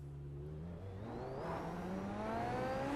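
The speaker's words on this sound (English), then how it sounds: "Let's give this a bit of a rev." Super Formula single-seater engine in the iRacing sim, revved from idle with a smooth rising whine that climbs steadily in pitch over a few seconds, fairly quiet and alone without any voice.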